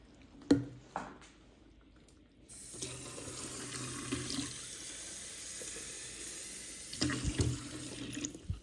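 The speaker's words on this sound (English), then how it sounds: "Of course, I'm gonna add a little water to this." Water is poured into a slow cooker holding pulled pork with Dr Pepper and barbecue sauce. A couple of light clunks come first, then a steady splashing pour runs for several seconds.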